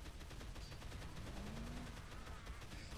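Gunfire in the Dead Island zombie video game, a rapid string of shots fired in quick succession, loud and dense, running continuously without speech.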